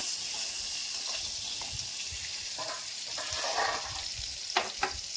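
Pointed gourd pieces frying in oil give a steady, moderate sizzle throughout, broken by a few soft stirring scrapes and two sharper clicks near the end, with no talking.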